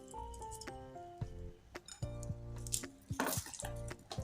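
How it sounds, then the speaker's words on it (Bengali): Hands mash onions into raw chicken in a kitchen bowl, giving faint, irregular squelching pats and light clinks against the dish, soft and close with no talking. "এই পেঁয়াজগুলো আমি এর মধ্যে দেব, দিয়ে এরকম করে হাতেই ম্যাশ করে নিচ্ছি"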